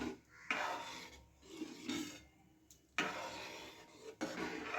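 A spoon rasps and scrapes through thick khichdi in a pot in repeated rubbing strokes with short pauses between them, close and quiet, with no talking.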